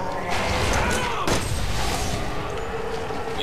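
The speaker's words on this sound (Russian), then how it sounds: "Выстрел." A single loud gunshot rings out in the Resident Evil 6 game, a sharp broadband crack with a short decay over steady background game ambience.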